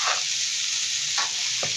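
Food fries in a pan with a steady, dense sizzle, broken by a few quick stirring scrapes.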